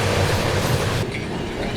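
Tamil Nadu Superfast Express train running near Bhopal Junction, a steady loud rolling rumble of wheels on track that softens slightly partway through, with no talk.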